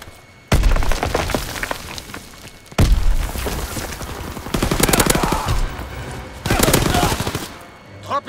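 Rapid submachine gun bursts from Call of Duty WWII multiplayer gameplay, several loud sustained volleys starting abruptly and separated by short pauses, with sharp impacts and game effects mixed in.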